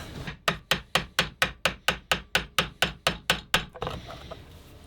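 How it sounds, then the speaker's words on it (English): A chisel is struck repeatedly with a hammer to cut through scrap material, giving about fourteen sharp, evenly spaced close-up blows in a steady rhythm, followed by a brief scrape as the work settles. "So I think I'm just going to use a chisel."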